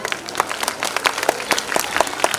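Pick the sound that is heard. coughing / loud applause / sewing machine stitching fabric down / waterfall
loud applause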